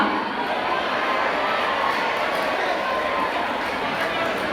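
Audience at a movie promotion event fills the space with dense, sustained applause and crowd noise, a loud wash of clapping and murmur throughout with no distinct pauses.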